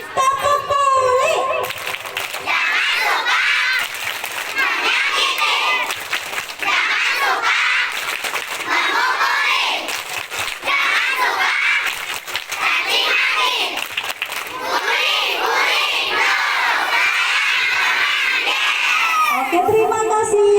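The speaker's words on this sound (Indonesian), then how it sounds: "kita yuk sama-sama dulu membuat tepuk buli" Schoolchildren perform the tepuk buli clapping chant, a crowd of young voices shouting and chanting together with claps mixed in, loud and continuous from start to finish.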